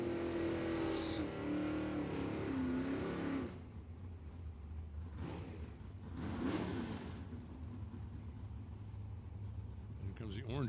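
An orange Chevy II drag car at Tucson Dragway, a loud engine roaring and revving, then fading into rumbling track-side noise, with a commentator talking over it.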